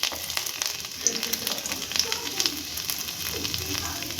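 Cashew nuts frying in a few spoonfuls of ghee for a festive vermicelli pudding, a steady close crackling sizzle with small pops throughout, no talking.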